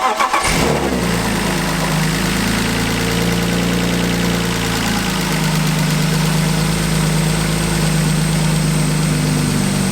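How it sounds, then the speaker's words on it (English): A BMW engine with a ticking fault cranks and fires, then settles into a steady, loud idle with a faint ticking in the background. "fire it up, give you guys a sound clip"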